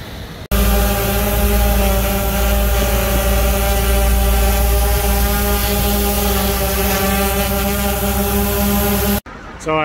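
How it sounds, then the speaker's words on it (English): An Autel X-Star quadcopter drone flies over an open parking lot, giving a steady, loud, close high-pitched whining buzz of its motors that holds for nearly the whole stretch and then cuts off abruptly. "our second flight in this open parking lot we were doing"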